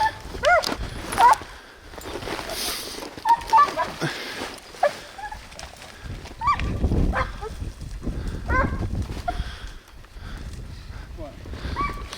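Hunting dogs out on a coyote hunt give intermittent barks and yelps, mixed with livestock-like calls, while people talk and move about outdoors nearby throughout.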